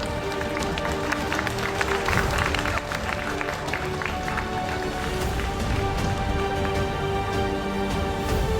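Applause from the audience at the GSL Super Tournament II StarCraft final, welcoming the award presenter; a dense, steady wash of clapping fills the hall throughout, with voices mixed in.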